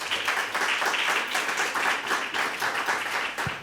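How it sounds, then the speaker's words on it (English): An audience claps for speaker Kristiina Omri at a talk on e-Estonia, a dense, even round of applause that lasts throughout and ends with a thump near the close. "So please could we give a round of applause for Mrs."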